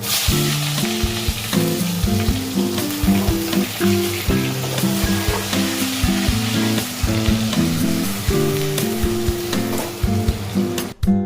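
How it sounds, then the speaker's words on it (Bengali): Onions frying in a pan, a loud continuous sizzle with crackling pops and rhythmic scraping of a spatula stirring against the pan throughout. "পেঁয়াজ ভেজে নিচ্ছি।"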